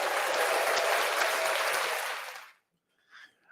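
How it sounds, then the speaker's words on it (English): A dense burst of applause, likely a canned sound effect dropped into a podcast, plays loudly and evenly for about two and a half seconds, then cuts off into silence before a brief faint sound. "please give a round of applause there"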